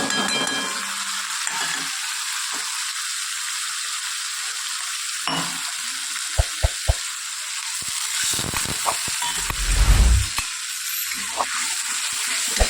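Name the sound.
tempering spices sizzling in hot oil with asafoetida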